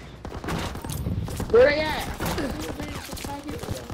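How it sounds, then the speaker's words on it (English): Automatic gunfire in the combat game War Rage, a burst of rapid shots with sharp transients through the clip, heard under a voice talking. "Automatic is shooting at me."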